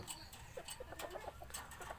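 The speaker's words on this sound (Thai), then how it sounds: "นี่ไก่ต่อช่างบอลครับ หูขาว หูขาว" A white-eared red junglefowl decoy rooster clucks in a series of short, fairly faint calls against outdoor background noise.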